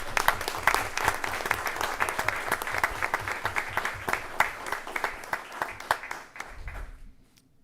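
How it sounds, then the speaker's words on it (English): Applause from the audience at a school board meeting honoring teachers, with many individual claps standing out, holding steady before tapering off and stopping near the end. "So if you'll give these ladies a hand of applause."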